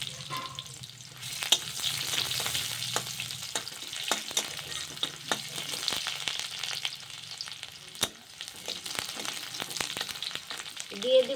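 Chopped onion frying with dried red chili, cumin and bay leaf in a pan, a faint, continuous sizzle with scattered sharp clicks and scrapes of stirring, close by and without talk.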